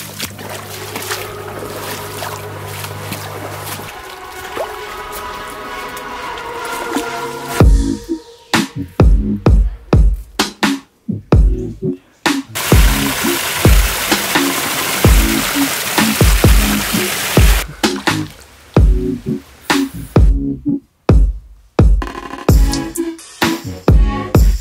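Footsteps wade through a Florida creek while hunting for fossil shark teeth, sending up repeated rhythmic sloshes and splashes of water, loud and close, after a calmer stretch of trickling flow.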